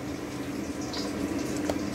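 Rice boils in a pot on the stove for fried rice: a soft, steady bubbling hiss with faint pops and occasional small clinks, fairly quiet, with no talking.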